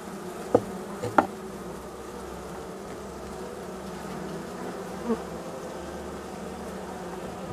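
Honey bees swarm around a beehive in an apiary during a morning hive inspection, a continuous, close buzzing drone with a few sharp knocks or taps standing out above the steady hum.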